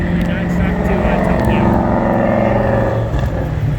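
A large airliner at LAX runway 24R roars steadily and loudly throughout, with a broad rumbling engine drone that never lets up.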